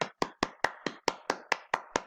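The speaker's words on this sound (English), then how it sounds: "Let's give him a quick round of applause" A single pair of hands claps about ten times in a quick, even rhythm. Each sharp, close slap is clearly separated, with no voices.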